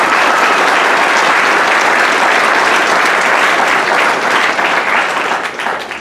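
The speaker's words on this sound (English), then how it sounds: "I think they deserve a big round of applause for all that" Loud, sustained applause from a large gala audience at a neuroendocrine cancer event fills the room steadily, a dense wash of many hands clapping that eases slightly toward the end.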